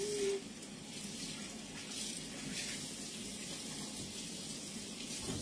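A kitchen tap runs in a steady, fairly soft hiss as a buttered spoon is rinsed under the water. The flow stays even for several seconds, with no talking over it.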